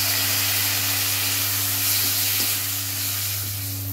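A splash of water hitting sizzling spices, cumin powder and green chilli in a pan, giving a loud steady hiss and steam close by over a low background hum, no talking.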